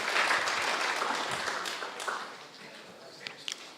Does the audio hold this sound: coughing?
no